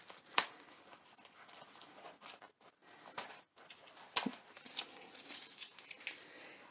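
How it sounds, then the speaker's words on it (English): Tape peeled off the zipper of a fabric Nosferatu coffin bag, heard as a few scattered crinkling, tearing and rustling bursts, close and fairly quiet, with two sharper rips standing out. "get your tape off of your zipper."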